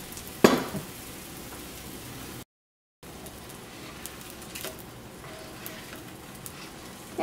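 Parotta made from wheat dough fries in oil on a hot pan, giving a soft, steady sizzle with a brief louder crackle near the start, a short silent break midway, and no talking.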